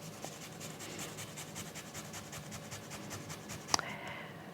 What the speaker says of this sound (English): I'm using a small piece of ginger. It's not quite thumb size. I'm just gonna grate it into this little bowl.